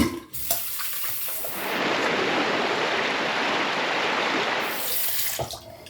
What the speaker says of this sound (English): both razors did a good job, so we're gonna rinse off now